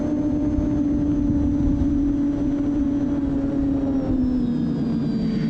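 An RC airplane's electric motor runs at full throttle in flight, giving a steady loud whine with a slowly falling pitch, unbroken and alone for the whole stretch.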